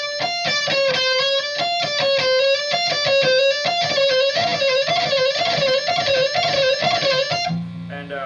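A slow electric guitar blues lick played with gypsy-style picking: a first note with hammer-ons, then each note picked on the way back down. The tone is lightly driven and the melodic runs are steady and close, ending in a brief low fade.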